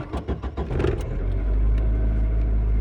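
A car's starter motor cranks the engine in fast rhythmic pulses for about a second, then the engine catches and settles into a steady, loud idle drone; no one speaks.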